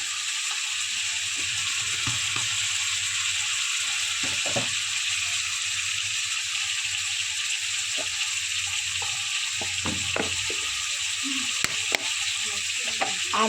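Spice paste of chili powder, cumin, coriander and ginger frying in oil for bhetki fish, a constant bright sizzle with occasional scraping stir sounds and faint low rumbling underneath, no speech.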